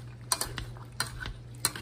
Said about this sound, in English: take a masher. We're just gonna mash it down